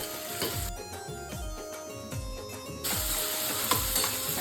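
Steady sizzling of onions frying in hot oil, with repeated low thumps and clatter from stirring; the sizzle grows louder and brighter toward the end.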